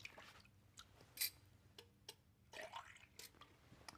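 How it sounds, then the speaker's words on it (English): Green dye dripped drop by drop into water for a vase centerpiece: a few faint, scattered drips and small liquid plinks, sparse and irregular against a quiet background. "Here's the green dye. Just drop a few drops into the water."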